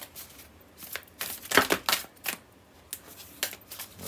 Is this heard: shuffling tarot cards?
yes